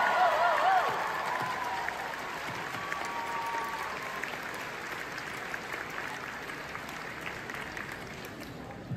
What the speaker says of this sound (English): je vous demande une dernière fois d'applaudir nos deux grands gagnants, Junior!